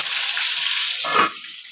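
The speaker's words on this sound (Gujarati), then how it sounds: "વઘાર ચાલુ જ છે અહીંયા" Whole spices tempering in hot oil for a matar paneer curry give a bright, close, continuous sizzle, with a brief louder crackling burst near the end as something is stirred or added.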